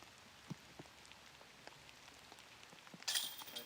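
Light rain in woods with scattered heavier drops falling from leaves, faint soft patters and isolated plops at irregular intervals, followed by a brief brighter rustle at the end.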